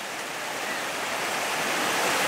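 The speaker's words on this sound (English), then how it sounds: "Normally this is an easy ford, but you can see after 7 days of rain," A swollen mountain stream after seven days of rain, normally an easy ford, rushes in a continuous loud broadband roar of flowing water pressing against a bridge, close and unbroken.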